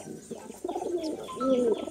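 Pigeons in a home loft coo close by in soft, throaty, rolling calls that swell louder toward the end, with no talk.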